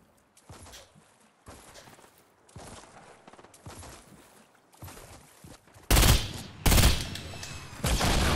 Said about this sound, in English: I'm jumping and shooting him.